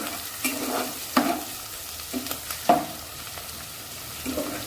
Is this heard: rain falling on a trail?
no